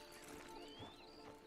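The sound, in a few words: horse hooves clip-clopping in Red Dead Redemption 2 Online video game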